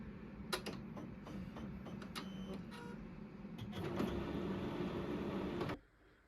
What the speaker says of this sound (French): On lance l'impression.